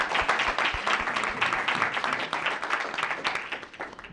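Audience at a startup pitch competition semi-final applauds the pitching teams, a dense sustained round of clapping with scattered sharp claps, fairly loud and steady before tapering slightly at the end.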